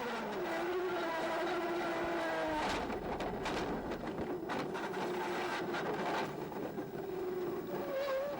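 Onboard Gerhard Berger's 1989 Ferrari Formula 1 car, the engine screams at high revs, then drops sharply in pitch as the car brakes and downshifts for a chicane, and revs climb again.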